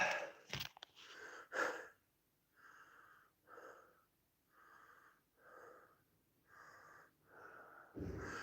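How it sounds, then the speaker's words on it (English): Rhythmic, wheezy panting of breath in a workout setting, with a series of evenly spaced huffing exhales after a few sharp louder bursts at the start, close and fairly quiet. "Imagine this panting on top of you."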